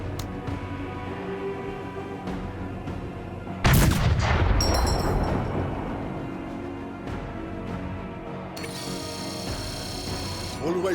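Cannon fire in the turn-based strategy game Menace: one loud, sharp blast with a long rumbling tail over a steady mechanical game hum, followed later by higher whirring effects.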